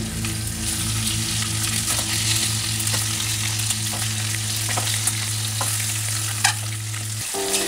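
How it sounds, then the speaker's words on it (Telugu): Eggs frying in oil in a pan for egg curry give a steady, close sizzle with occasional crackles and spatters, a low hum running beneath until it cuts off near the end. "గుడ్లు వేసి ముందుగా అయితే వేపుకోవాలండి."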